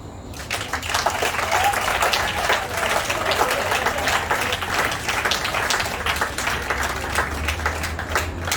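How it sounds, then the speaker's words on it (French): An audience at a slam poetry evening applauds after a poem, with sustained, lively clapping from a crowd that stays strong for the whole stretch, close and fairly loud. "Je vous remercie pour vos applaudissements"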